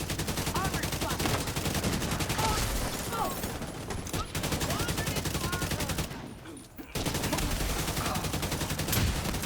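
Rapid sustained gunfire in a first-person shooter game, dense repeated shots close and loud, with short pauses between bursts and a player's voice talking over it.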